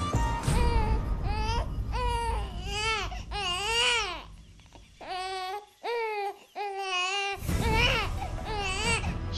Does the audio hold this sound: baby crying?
yes